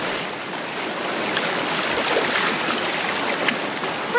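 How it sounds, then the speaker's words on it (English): Waves wash steadily into a rocky bay on Ischia, a continuous close hiss of surf and churning water without any voices. "there's a lot of waves coming into the bay"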